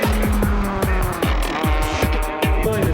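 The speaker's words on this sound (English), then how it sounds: "Tekart's Hachiroku takes a major wipeout in the last corner" A Hachiroku race car spins out through the last corner of a track, its engine revving hard in rapid repeated bursts with a shrill high whine, close and loud, rising and dropping several times in quick succession.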